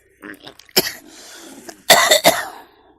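Several sharp coughs from someone nearby, one early, then two in quick succession, with quieter throat sounds in between.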